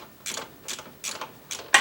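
Ratcheting wrench tightening the alternator bolts on a 1993 Jeep YJ, four short bursts of quick clicking spaced about half a second apart, close up and fairly crisp.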